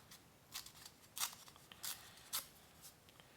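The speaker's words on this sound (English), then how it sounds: "I'll just cut this in half." Scissors snip through paper being cut in half for postcard art: a handful of short, crisp cuts spaced irregularly, close and fairly quiet with no talking.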